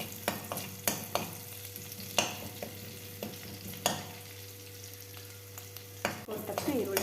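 Green chillies splutter and sizzle in hot oil for sabudana khichdi, a steady close frying hiss broken by sharp pops and scrapes of a spoon stirring in the pan.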